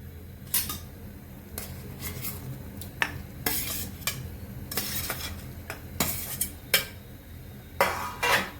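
A spoon stirs paneer into a boiling vegetable curry in a pan for veg Kolhapuri, giving sharp metallic scrapes and clinks in irregular bursts over a low bubbling simmer.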